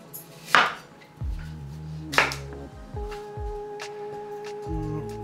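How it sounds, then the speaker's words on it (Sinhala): A knife chopping an apple into small pieces on a board, sharp irregular chops, some louder than others, spaced through the clip over a faint steady tonal hum. "පොඩි කෑල්ලකට කපන්න පුළුවන්"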